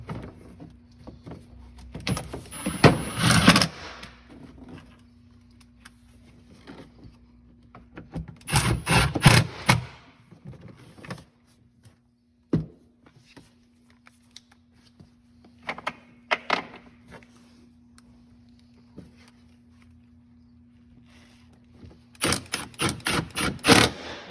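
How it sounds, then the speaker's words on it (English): Stock screws being driven with a T40 Torx driver to bolt a kick plate down to a floorboard while fitting a Tater shifter. Several separate bursts of ratcheting and scraping, close and fairly loud, with quiet gaps and a steady low hum between them. "using the T40 and the stock screws, you want to bolt the kick plate back down to the floorboard"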